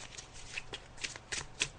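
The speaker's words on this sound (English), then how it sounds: "I'm just shuffling the cards just to see what they have to say, Yvonne." Tarot cards being shuffled by hand, a soft run of quick riffling flicks and taps in an irregular rhythm, close and quiet with nobody speaking.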